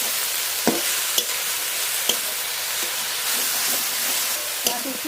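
Pea greens sizzle in a hot pan after tempering, a steady hissing fry broken by a few sharp clinks of a utensil stirring.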